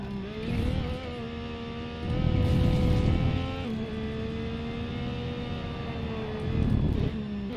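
LMP2 prototype race car engine in Race Driver: Grid, a loud steady drone that climbs in pitch and drops sharply at each upshift, with roughly three gear changes in quick succession and no talk.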